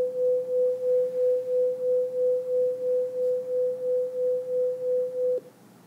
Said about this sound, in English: If I increase the frequency of one of them to, say, 503 hertz, the beat sounds like this.